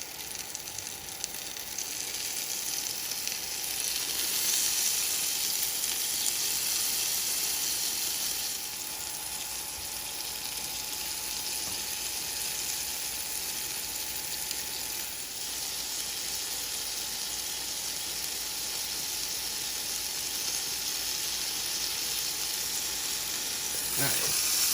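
Meat sizzles steadily on a Power XL Smokeless Grill, a continuous bright frying hiss running close and fairly loud for the whole stretch, with a voice talking over it now and then.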